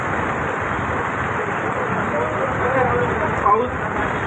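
Heavy rain pours steadily during an outdoor victory celebration in Panvel, a dense, even hiss with a faint crowd murmur beneath and a brief louder clatter near the end.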